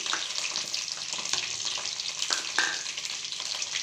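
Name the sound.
onion, coconut, ginger and garlic frying in a pan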